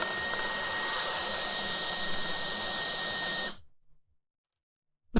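A battery-powered turbine motor air blower runs at a loud, steady, high-pitched whine for about three and a half seconds, then cuts off abruptly and spins down into silence.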